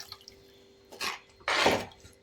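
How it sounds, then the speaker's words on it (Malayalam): Water is splashed from a mixer jar into a pan to rinse out ground paste for a Kerala-style catfish curry. Two short, close pouring bursts come with drips between them in a quiet kitchen. "ഇനി നമുക്കത് മിക്സി കഴുകി വെള്ളം ഒഴിച്ചു കൊടുക്കാം"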